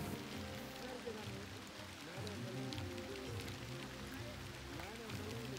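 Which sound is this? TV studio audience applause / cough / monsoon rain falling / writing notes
monsoon rain falling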